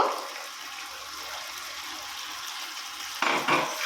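Fried shrimp are stirred with vegetables in a pan, a soft continuous hiss with light scraping and a louder clatter of the spoon toward the end.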